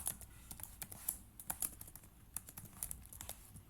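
Python code being typed on a computer keyboard, a quiet, close stream of irregular key clicks with occasional brighter taps, no voices.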